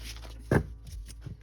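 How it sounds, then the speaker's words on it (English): A tarot deck is cut and a single card flipped over, giving one soft, quick papery slap amid a faint, quiet rustle. "cut the card, flip it over"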